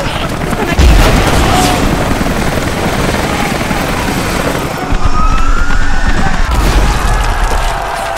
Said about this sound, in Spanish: Los helicópteros están aquí.